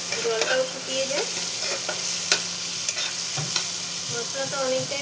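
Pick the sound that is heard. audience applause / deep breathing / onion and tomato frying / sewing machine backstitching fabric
onion and tomato frying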